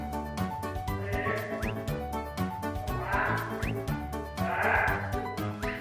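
A giant panda gives a run of close, loud, bleating calls with a dog-like bark, several in a row in an uneven rhythm, with breathy rasps between them.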